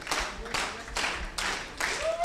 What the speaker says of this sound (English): We also want that synchronized clapping.